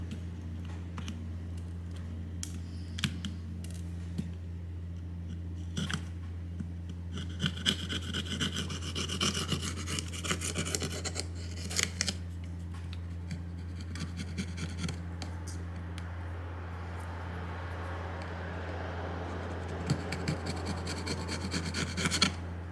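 A flat screwdriver scrapes and rubs leftover tape and black gasket adhesive off the frame of a Samsung Galaxy A02S during a screen replacement, giving faint, close rasping strokes in irregular bursts over a steady low hum.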